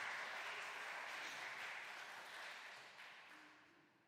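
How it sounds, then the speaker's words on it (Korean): A church congregation applauds steadily to welcome a deacon to the front, the clapping fairly distant and slowly fading over about four seconds. "우리 김영호 집사님 나오실 때 우리 큰 박수로 환영해 주시면 감사하겠습니다"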